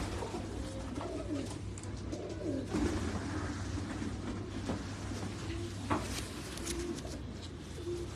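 Rooftop pigeons in Karachi keep up a continuous throaty cooing, several birds overlapping nearby, with a few soft knocks and a brief sharp sound partway through.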